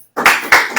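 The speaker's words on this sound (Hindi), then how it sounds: "ताली बजाओ।" Audience applause during a Hindi church sermon: three quick bursts of hand clapping, loud and close, with no talking over them.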